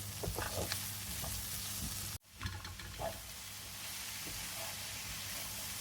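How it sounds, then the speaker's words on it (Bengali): Okra with shrimp frying in a pan gives a steady close sizzle and hiss that cuts out abruptly for a moment, then resumes with faint stirring clatter. "আমি এখন ঢেঁড়স ভাজিটা বসাবো"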